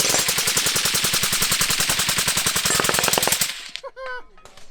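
Rapid full-auto bursts from a suppressed Radian Afterburner rifle at a media range day, a fast even string of sharp cracks that stops abruptly, followed by brief voices.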